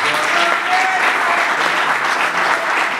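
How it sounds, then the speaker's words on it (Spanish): Audience applause at a film premiere event, steady dense clapping throughout, loud and sustained with no break. "Un aplauso para él."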